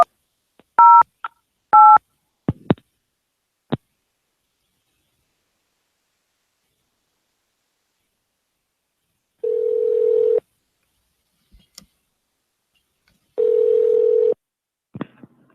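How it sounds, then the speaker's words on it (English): Telephone keypad tones dialing into an automated phone line, two sharp beeps and clicks early on, then after a long silence two longer steady tones, clean and close with nothing else around. "If you know the extension number of the party you wish to reach, please dial it now."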